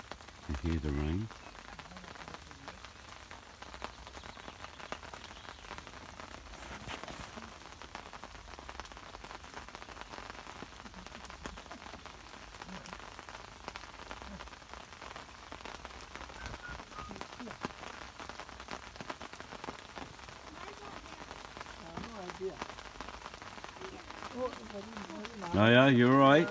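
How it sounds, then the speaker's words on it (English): Heavy rain drums steadily on a nearby shelter roof by a river, a dense constant patter, with brief voices speaking at the very start and end. "You hear the rain."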